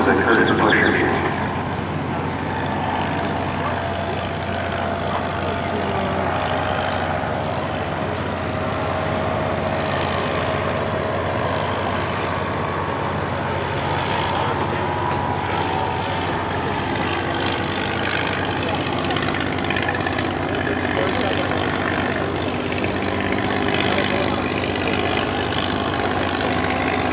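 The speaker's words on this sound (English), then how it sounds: "I'm going to fade this music out and let you listen to the Curtiss pusher." A 1911 Curtiss pusher biplane flying at an airshow, its engine and propeller droning steadily at a distance throughout, with a faint broad hum and no talk.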